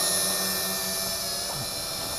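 A Jingdatoys JD-20S folding FPV drone flies close by outdoors, giving a steady high-pitched motor and propeller whine that holds throughout at fairly high level, with no talking.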